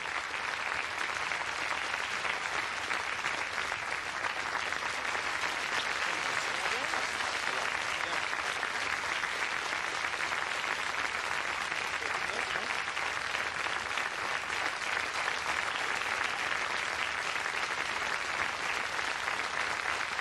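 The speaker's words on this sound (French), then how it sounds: "vraiment, applaudissons Michel" A television studio audience gives jazz pianist Michel Petrucciani a long, loud ovation: dense, even clapping that is sustained and unbroken from start to finish.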